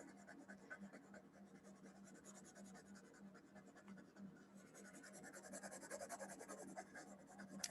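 Graphite pencil, a Blackwing Pearl, scratching steadily across paper while shading a figure drawing, a soft continuous close-up scraping that grows slightly denser and louder toward the end, with no talking.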